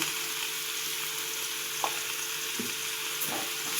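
Chicken pieces fry in a pan with turmeric, giving a continuous close sizzle and hiss with a few soft knocks from stirring.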